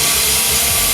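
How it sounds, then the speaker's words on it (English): A dead air compressor, revived for use as a portable air supply, has its motor running loud and close with a dense, rough mechanical roar that fills a single continuous second. "The compressor kicked on."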